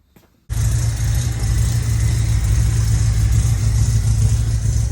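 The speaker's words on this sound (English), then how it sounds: "Fan belt is tight, noise is gone, motor is like silky smooth, it just sounds crisp." Ford Cortina TE engine running smoothly with its fan belt freshly tightened, starting abruptly after a short quiet moment and settling into a close, steady, even idle with no squeal.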